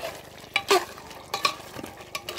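Beef with spices being stirred in a pan, a spoon scraping in several quick strokes over a soft sizzle, close and with no voices.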